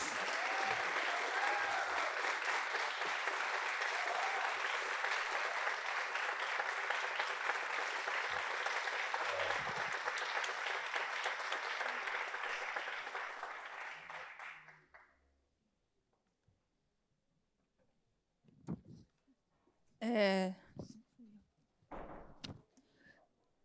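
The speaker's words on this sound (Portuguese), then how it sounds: "uma salva de palmas" A full audience applauds three poets being called up at a poetry festival panel, loud dense clapping that fades out after about fifteen seconds, followed by a few scattered knocks and thumps.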